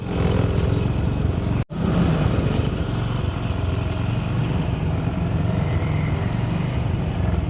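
A motorcycle rides in strong wind, a loud continuous engine drone buried under heavy wind rumble, with one brief dropout early on.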